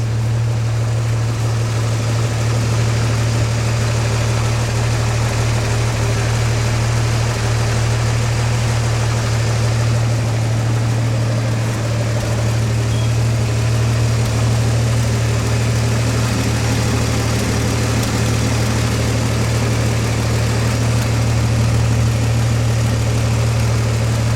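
An old 1955 Ford F100 truck engine idles steadily and loudly, a deep constant rumble with an even throb and no voices.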